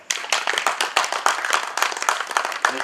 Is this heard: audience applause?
yes